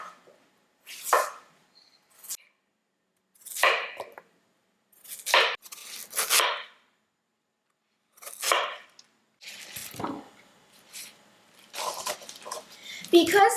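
A knife slices through peeled Chinese yam held in gloved hands, making close, crisp cuts in irregular bursts separated by short pauses.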